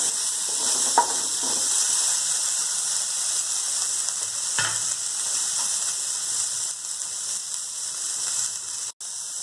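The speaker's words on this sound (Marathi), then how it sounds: "थोडी जिरे आणि थोडंसं लसूण टाकून घेऊयात आणि हे सर्व एकत्र भाजून घेऊयात" Cumin, garlic and chillies, with tomatoes, roast in a pan with a soft, steady sizzle, a faint hiss broken by a couple of light clinks.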